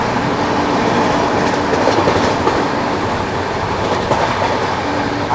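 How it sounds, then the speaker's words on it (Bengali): The 12863 SMVT Bengaluru Superfast Express runs through Golanathra station, heard from inside a 3E coach as a loud, unbroken roar of wheels and carriage rattle with a faint clickety-clack rhythm. "আমাদের ট্রেন প্রবেশ করলো গোলানাথরা স্টেশনে"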